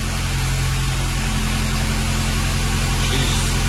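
A car engine hums steadily nearby with a low, constant drone, holding at an even idle without clear surges.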